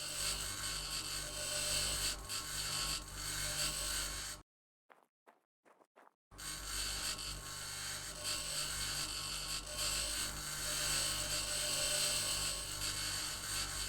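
A grinder scraping and whirring in Occupy Mars, a steady loud mechanical drone that cuts out briefly for about two seconds and then resumes at full strength.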